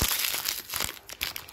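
Plastic packaging for an LOL Surprise little sister doll crinkles and tears in close, busy bursts of crumpling, with a few brief pauses and no talking.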